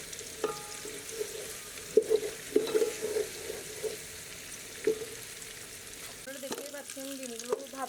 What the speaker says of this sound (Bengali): রাইসগুলো দেওয়ার আগে আমি এক সাইডে ডিমগুলো একটু ভেজে নিব।